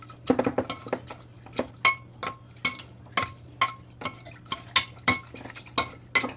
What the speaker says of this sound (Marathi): शेंगा आपल्या उकडलेल्या आहेत तर त्याच्यामध्येच आपण ह्या अशा मॅशरने मॅश करून घ्यायचं आहे